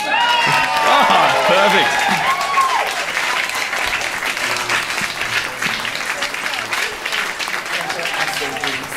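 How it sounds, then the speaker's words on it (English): Applause from a talk audience, dense and steady throughout, with a few voices calling out and cheering over the clapping early on. "I'm going to do this and give you a clap"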